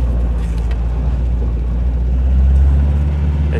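A carbureted engine of a 1975 MGB idles steadily and a little high, a constant low rumble throughout with no talking.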